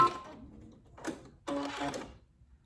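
Brother Essence VM5200 sewing machine stitching a border or hem: short bursts of quick mechanical chatter separated by pauses, close and fairly quiet.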